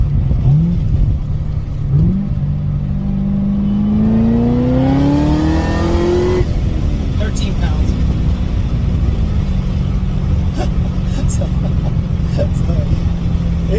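Corvette C6 ZR1 fitted with a Griptec 2.55 supercharger pulley, its engine droning loudly and steadily before a hard pull that sweeps sharply upward in pitch, then settling back to a steady roar.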